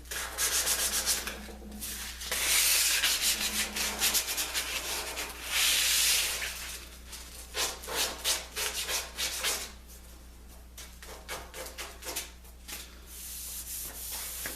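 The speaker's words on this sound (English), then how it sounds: "Then I just hand sanded them a little bit here with the 150." Wood slab being hand sanded with 150-grit sandpaper, heard as loud, close rasping strokes in irregular bursts that fade to lighter rubbing toward the end, with no talking.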